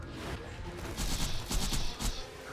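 Assault rifle fire in Borderlands 2 as Maya, bursts of rapid shots that swell after a quieter opening, with two or three clustered volleys of sharp cracks near the end.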